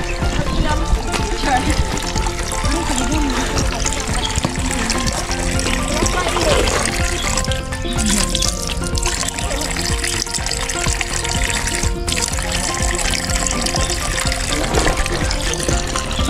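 Water trickles and pours steadily from a natural spring on a hike in Hong Kong, a close continuous splashing with people talking over it.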